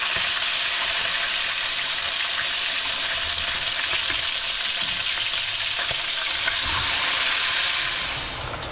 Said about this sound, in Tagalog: Kukunin na natin yung ating pinirito dahil luto na siya at magsalang tayo panibago.